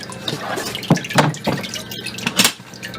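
Excess water tipped off a screen during traditional Japanese papermaking with paper mulberry fiber, heard as several splashing, dripping pours close by, with a quieter trickle between them.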